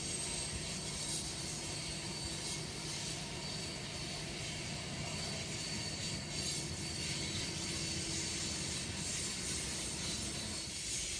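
A CP freight train rolls past Morant's Curve in Alberta, a distant, steady rumble with faint clanking and metallic rattles of wagons, continuous and quiet with no talking.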